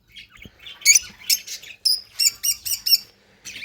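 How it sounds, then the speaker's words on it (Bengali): A pet lovebird gives a run of sharp, high chirps and tweets in quick bursts, close and fairly loud, with short pauses between calls. "আর এই হচ্ছে আমার লাভবার্ড পাখিটা"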